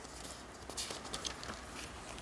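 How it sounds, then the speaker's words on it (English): Steady rain patters outside, a soft continuous hiss with scattered light taps, fairly even and distant, with no voices. "It's raining, so you'll have to, if you can hear it in the background"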